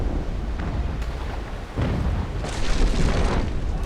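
Muffled cannon booms roll in from a naval battle between sailing ships in Naval Action, heavy low thuds over a constant rumbling background with no talking.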